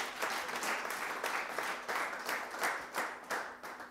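A church congregation breaks into applause, a dense, sustained wash of many hands clapping with rhythmic surges, moderately loud and heard alone.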